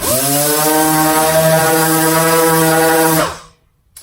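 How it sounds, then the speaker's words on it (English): A Dynabrade random orbital sander, held up on its edge, runs with a loud, steady, high-pitched whine for about three seconds, then spins down quickly into silence. "That is exactly how we would not want to operate an orbital sander."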